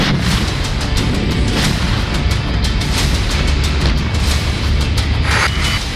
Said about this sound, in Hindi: रूस के सैनिक अड्डों पर यूक्रेन ने तोप से गोलों की बारिश की।